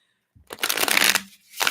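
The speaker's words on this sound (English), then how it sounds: "Let's give these a shuffle." A deck of tarot reading cards being shuffled, a close burst of riffling and flicking that runs about a second, drops out, then starts again briefly.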